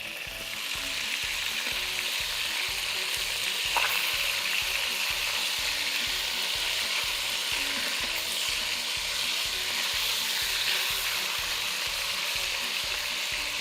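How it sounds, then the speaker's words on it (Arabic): Flank steak sears in a hot pot with a steady, crackling sizzle that stays loud and close throughout, with no talking. "انا عايزه اللحمه تتكرمل كويس جدا من كل ناحيه"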